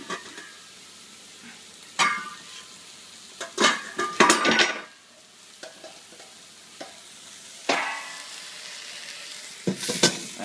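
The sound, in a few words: fish and steak cooking in a pan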